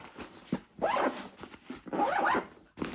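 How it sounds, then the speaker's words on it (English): A zipper is pulled shut on a compartment of a heavy-duty, robust Vanquest Addax 18L backpack: two quick, close zipping strokes with small fabric rustles and handling clicks between them, with no talking. "Zip this up."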